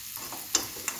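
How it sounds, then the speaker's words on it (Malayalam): Spiced egg bajji filling stirred in a pan, a brief low sizzle with two sharp scrape-clicks of the spoon against the pan, no voices. "നല്ലതുപോലെ ഇളക്കുക."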